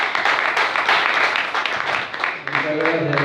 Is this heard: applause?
yes